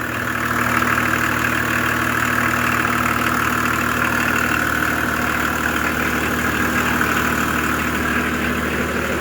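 A BMW 325 TDS diesel engine idles steadily and loudly up close, with a constant rough hum and faint knocking texture and no pauses.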